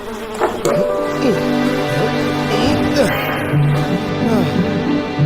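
Bees buzz continuously around a large honeycomb in a Tamil animated story, a loud, steady drone with wavering pitch sweeps as the insects circle close by.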